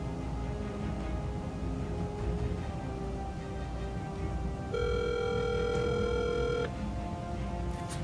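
A phone call rings out through the handset earpiece toward voicemail, a steady electronic ring tone repeating in a loud sustained burst with pauses between, and no talking over it.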